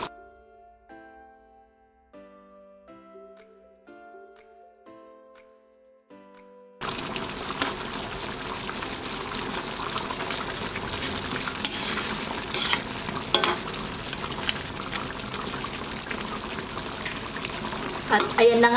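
Lechon paksiw simmering and bubbling in a pot on the stove, a steady dense bubbling and sizzling that starts abruptly after a few seconds of soft musical tones and continues loudly to the end.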